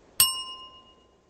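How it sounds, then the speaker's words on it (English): A single bright ding from a small bell during a tabletop game, struck once with a sharp attack and a clear ringing tone that fades over about a second, alone and close. "Ring that punt bell."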